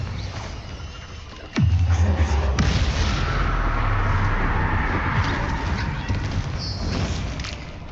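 A Bombarda spell explosion in the Hogwarts Legacy video game, one loud booming blast with a deep rumbling tail that lingers under a busy game soundscape.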